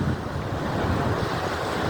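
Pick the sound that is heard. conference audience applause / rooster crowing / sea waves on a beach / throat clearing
sea waves on a beach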